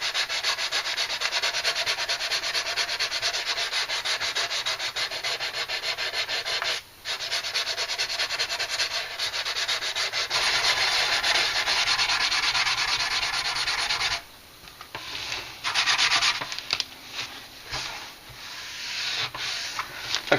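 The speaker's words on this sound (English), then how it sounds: "Time to start sanding." Steady close scraping of sandpaper over putty on a Revell plastic model space shuttle orbiter, continuous strokes with two brief pauses, no talking.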